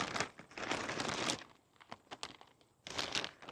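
A plastic bag crinkles and rustles as hands work with it while sowing seeds in a raised garden bed. The crackling comes close and fairly loud in bursts, with a short quieter stretch of scattered rustles before another burst.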